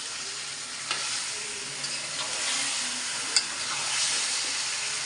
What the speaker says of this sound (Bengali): এই দেখো, তেল ফুটে উঠছে